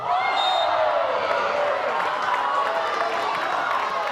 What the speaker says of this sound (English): You hear glimpses of what the crowd thinks should happen.